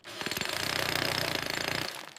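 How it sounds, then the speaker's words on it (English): Jackhammer pounding in rapid, steady repeated blows for about two seconds, loud and close with no talk. "J is for jackhammer."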